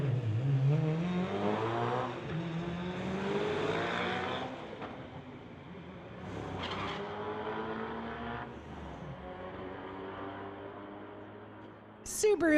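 Street-legal Audi and Subaru cars launch and race down a drag strip, engines loudly revving and climbing through gears before fading into the distance, with an announcer talking over the engines.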